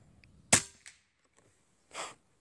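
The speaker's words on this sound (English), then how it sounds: "hit this thing right in the middle, you're gonna see a big explosion" An Air Venturi Avenger PCP air rifle fires with a sharp crack, then a softer tick follows. About a second later a broader, louder burst sounds as the target explodes. There are quiet pauses between the sounds.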